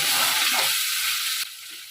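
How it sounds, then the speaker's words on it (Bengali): Chopped tomato sautéing with spices in a pan for a cauliflower and potato curry: a loud, close sizzling hiss that drops sharply in level partway through, then continues more softly. "তো টমেটোটাকে একটু কষিয়ে নেব"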